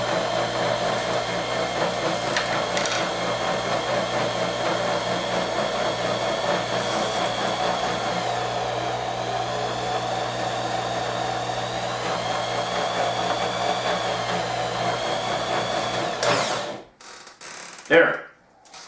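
A case trimming and deburring center runs continuously with a steady motorized whine and mechanical hum, its pitch shifting slightly as the speed is adjusted, then cutting off near the end followed by brief handling noises.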